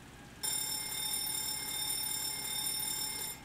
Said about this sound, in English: And you can hear the bell, which is checked.